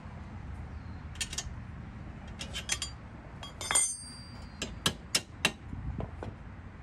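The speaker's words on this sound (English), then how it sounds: "Tap it up there." Metal taps and clinks ring out as a suspension bolt is tapped through on a Subaru Forester, a few scattered strikes followed by three sharper knocks, close by, against a low workshop background.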